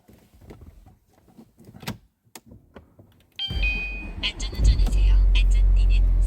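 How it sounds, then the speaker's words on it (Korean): A Porsche with 172,500 km on it sits with a few quiet clicks and taps from inside the cabin, then the engine catches abruptly and holds a loud, deep, steady idle rumble up close. "시동 한번 걸어 보겠습니다"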